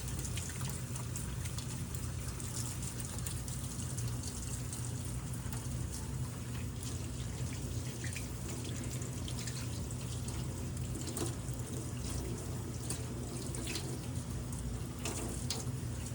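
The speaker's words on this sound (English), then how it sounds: "perform the hand hygiene with warm water" Steady running warm tap water pours and splashes continuously as hands are rubbed with salt, with faint droplet and rubbing sounds mixed in, fairly close and constant throughout.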